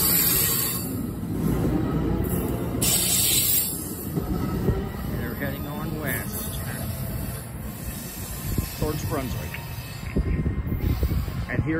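A MARC commuter train led by an MP36 locomotive with 8000-series coaches and a cab car rolls past nearby, with steady wheel rumble, hiss and occasional squeal, fairly faint and continuous.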